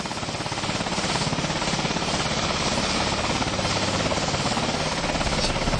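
A helicopter descends to land in a field, its rotor throbbing loud and steady from start to finish, a dense close roar with rapid blade chop and no voices.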